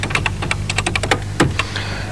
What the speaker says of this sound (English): if I type in space shuttle